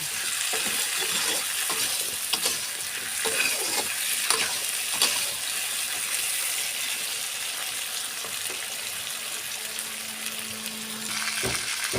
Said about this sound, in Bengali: আমি নাড়াচাড়া করে কলাটা ভাজা ভাজা করে নেব।